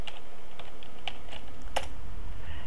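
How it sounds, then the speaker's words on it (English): Password being typed on a computer keyboard in a quiet room, a short run of soft, uneven key clicks with one sharper tap near the end. "Type in your password"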